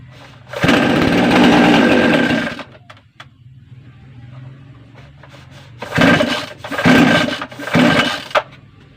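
A mini chainsaw engine, adjusted at the choke, buzzes loudly for about two seconds, dies back to a low idle, then revs again in several short, strong bursts close by.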